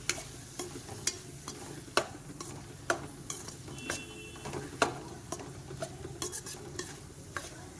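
Chicken pepper fry stirred in a pan after a sprinkle of ground spice, a ladle scraping and knocking in a steady rhythm of sharp clicks over a low, continuous sizzle, close-up and fairly quiet.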